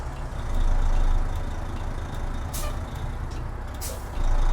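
A heavy Kenworth W990 truck rumbles past with a low engine drone in American Truck Simulator, and sharp hisses of air brakes break through twice.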